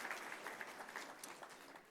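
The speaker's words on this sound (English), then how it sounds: "let's give one more round of applause for them" Audience at a charity gala clapping in a continuous patter, faint and distant, holding steady for a couple of seconds before tapering slightly.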